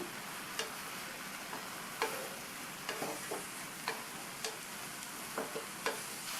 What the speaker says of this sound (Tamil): பீர்க்கங்காயை சேர்த்ததுக்கப்புறமா இந்த மசாலாவில் நல்லா இந்த மாதிரி பரட்டி விட்டு 2 நிமிஷம் போல் வதக்கிக்கணும்.